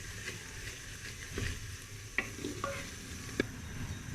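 Two finely chopped medium onions fry in half a cup of oil for an aloo keema, giving a steady soft sizzle with a few sharp stirring clicks and scrapes, close and alone.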